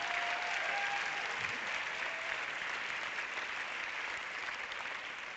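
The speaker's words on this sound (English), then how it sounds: "Big round of applause." An audience at the LUX Audience Award ceremony fills the hall with steady, sustained clapping that stays dense and even throughout before easing slightly toward the end.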